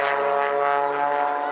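An XtremeAir XA41 aerobatic aircraft flies at the Dunsfold Wings & Wheels airshow, its propeller engine giving a loud, steady, droning buzz with strong harmonic tones that fade slightly over the short stretch.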